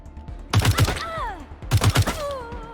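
Two loud bursts of rapid gunfire from a heavy gun in Wasteland 3, each a quick cluster of close shots followed by ringing, whistling tails.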